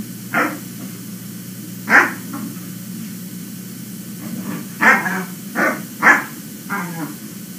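Puppies bark in short, sharp bursts indoors, about six separate yaps spread irregularly over a faint steady hum, with small whimpery sounds in between.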